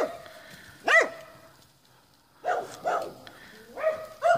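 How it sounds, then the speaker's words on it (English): Several dogs bark outdoors, a few sharp yips and barks in scattered bursts at moderate distance, with quiet gaps between them. "They've got a lot of dogs barking around them."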